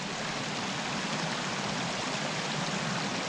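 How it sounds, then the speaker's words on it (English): A river flows beside a forest campsite, a steady broadband rush of moving water, close and continuous with no pauses, and no one speaking. "Up the river."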